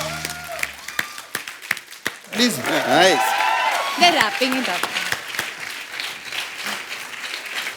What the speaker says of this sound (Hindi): एक बार आरआरआर की पूरी टीम के लिए जोरदार तालियां.